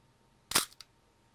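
An old film camera's shutter fires once at 1/1000th of a second, a single sharp, close mechanical snap followed by a fainter second click, set against near silence.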